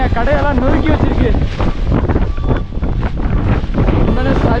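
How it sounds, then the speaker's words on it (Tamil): Strong wind buffeting the microphone on an exposed hill with wrecked shops, a loud, rough roar that continues without a break while someone talks over it. "உண்மையிலே சரியான காத்து தான்."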